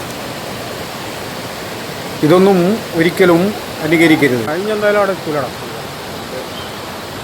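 Steady broadband rush of a waterfall over rocky ledges at Karuvarakundu, a continuous roar filling the scene while someone talks over it for a few seconds in the middle.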